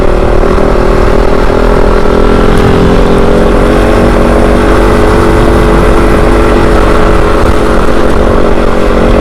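A Kove 450 Rally motorcycle runs steadily through an Arizona box canyon, its mid-pitched engine drone loud and continuous with a rough rumble underneath and no voices.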